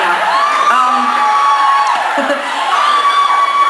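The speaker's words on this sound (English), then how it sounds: "to the person who's screaming, hi." Among a concert audience, a single high sustained scream rises over crowd noise and repeats a few times, loud and near, with murmuring people around.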